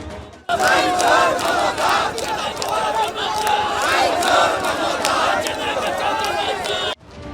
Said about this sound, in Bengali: মিছিল থেকে ওঠে মুহুর্মুহু স্লোগান